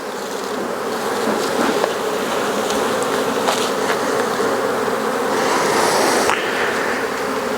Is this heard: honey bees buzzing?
yes